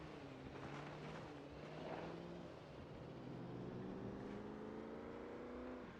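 Car driving in the survival game Project Zomboid during winter, a steady engine drone with rising and falling tones that holds at an even loudness throughout, with no voices.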